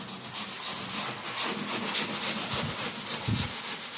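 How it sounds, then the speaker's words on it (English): A sanding block grinds down the edge of old painted orange-peel wall texture, giving a continuous raspy rubbing with a pulsing back-and-forth rhythm, close and steady, with no talking. "we just come in and we just grind this edge down"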